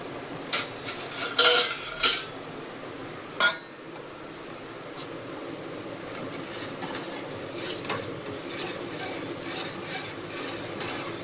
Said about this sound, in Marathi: भाताचा कमी गॅस करते आता. झाकण ठेवते.